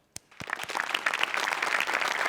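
Studio audience breaking into applause at a Marathi comedy sketch show, a few sharp early claps swelling quickly into steady, dense clapping that fills the room and carries on without talk.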